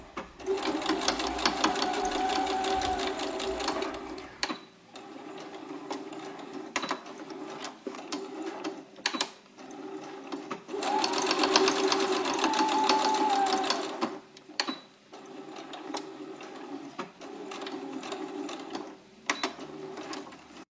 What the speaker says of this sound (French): on vient réaliser une couture de maintien à 5 mm du bord